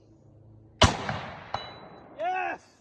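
A single sharp, loud shot from a PTR 91 rifle fitted with a muzzle brake, its blast decaying quickly, followed by a metallic clink and a short voice.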